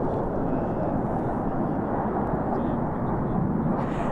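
Black Eagles jet aircraft at an air display tattoo, a steady loud roar of engine noise filling the whole moment without letup, with commentary voices faintly mixed under it.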